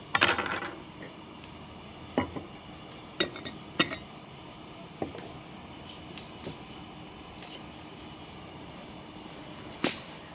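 Metal parts of a single-mantle Ash Flash lantern clinking outdoors at night as it is taken apart, a handful of sharp isolated clicks and taps spread out over quiet background hiss.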